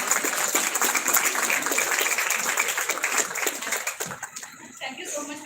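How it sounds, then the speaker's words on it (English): Audience at a college event in Indore applauding loudly and steadily, dense clapping with some voices and chuckles mixed in, tapering off toward the end as talk resumes. "Let's have a huge round of applause for everyone."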